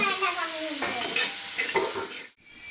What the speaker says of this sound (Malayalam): ഏകദേശം നമ്മുടെ ഉള്ളിയൊക്കെ വഴന്ന് വന്നിട്ടുണ്ട്